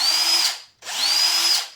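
A vintage Milwaukee cordless hammer drill whirs in two close, loud bursts, each spinning up to a steady high whine and winding down, with a brief silent gap between.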